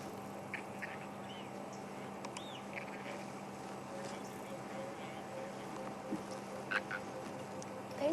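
Newborn cheetah cubs of the female Karula at Cheetah Plains give soft, high chirping contact calls much like tree frogs. The chirps are faint and scattered over a low, steady hum.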